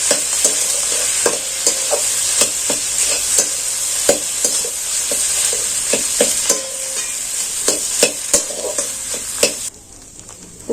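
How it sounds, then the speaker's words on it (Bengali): A spiced filling with turmeric, chilli and cumin powders and salt, for bottle gourd leaf rolls, is stirred in a sizzling pan, with a regular run of sharp spatula scrapes and taps over a constant frying hiss before it cuts off. "আমি খুব ভালো করে নাড়াচাড়া করে নিচ্ছি"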